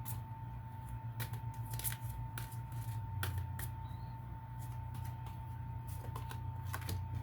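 Tarot cards are shuffled by hand in soft repeated riffles and flicks, a faint crisp papery rustle over a low background hum.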